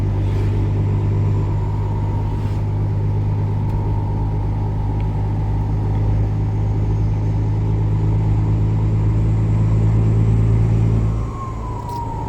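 A car engine fitted with a modified, louder exhaust pipe drones heavily and steadily up close, its deep rumble rising slightly, then dropping off sharply near the end.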